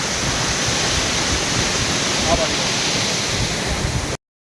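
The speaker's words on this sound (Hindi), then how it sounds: "पानी का फ्लो बहुत है" Floodwater roars over a washed-out road in Mussoorie as a loud, unbroken, close rush that cuts off abruptly near the end.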